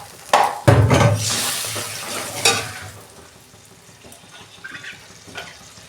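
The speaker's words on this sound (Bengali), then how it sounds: "বাটি ধোয়া জল দিচ্ছি।" Water from rinsing a bowl is poured into a pan of fried onions and spice paste for a fish dish, giving a loud splash and hissing sizzle that fades into a low simmer.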